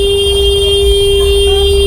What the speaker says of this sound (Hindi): इतनी तेज तेज हॉर्न बजा रहा है यार